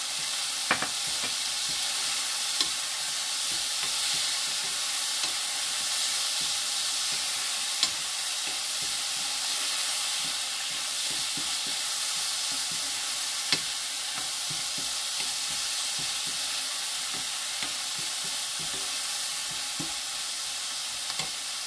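Ham and green chili stir-fry in a pan, a dense continuous sizzle that holds at an even level throughout, with occasional faint utensil ticks against the pan.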